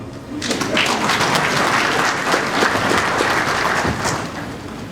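Audience applause at the opening ceremony of AIF 2023 fills the hall: a dense, steady wash of many hands clapping that starts almost at once and holds loud and even throughout.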